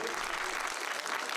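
A brief burst of dense audience applause for Belgian comedian François Damiens, steady and fairly close, with no break in the clapping.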